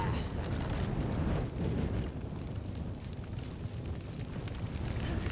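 Fire roaring in Shadow of the Tomb Raider, a steady low rumbling burn with crackle that holds loud and even throughout, with no voices over it.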